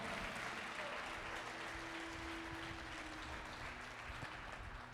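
A church congregation claps loudly and continuously in a dense, even roar of applause, with no clear talk above it.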